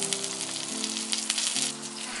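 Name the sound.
salmon steak sizzling on charcoal grill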